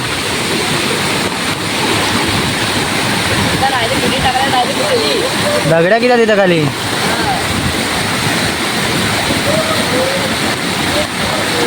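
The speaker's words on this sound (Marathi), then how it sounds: "पाण्याचा जोर बघा किती येतो" Rushing floodwater flows hard after heavy village rain, a loud unbroken roar with a person speaking briefly over it.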